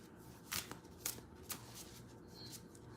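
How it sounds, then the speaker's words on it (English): Tarot cards being shuffled and pulled from the deck, with three crisp riffling bursts in quick succession, then quieter soft card handling close by. "So I'm going to pull this card for dad."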